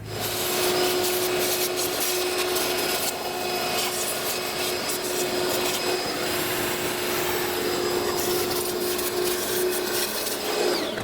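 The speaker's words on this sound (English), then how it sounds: "I will vacuum it all up" A vacuum cleaner runs continuously with a steady whine and rough gritty rasping as sand is sucked up close by from a car engine bay.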